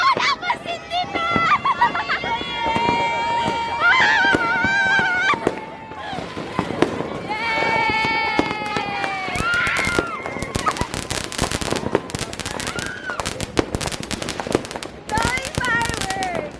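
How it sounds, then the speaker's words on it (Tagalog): New Year fireworks and firecrackers go off in Batangas, a rapid string of loud cracks and bangs that grows denser toward the end, under excited voices and shouting. "Daming fireworks!"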